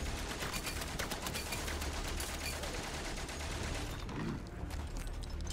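Sustained machine gun fire in the video game Valiant Hearts: The Great War, a dense, loud, continuous rattle of rapid shots that fills the whole stretch with no talking.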